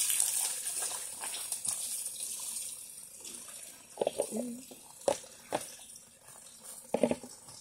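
Water leaking through a roof falls into a container during a rain-soaked bath, a soft continuous trickle with sharper splashes and plops clustering in the second half, fairly quiet and close.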